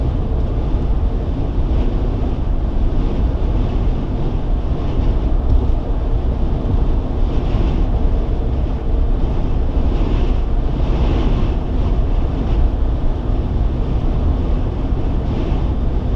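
Strong, gusty wind buffets the microphone in a steady roar alongside rough, choppy water, loud and continuous from start to finish with no voices.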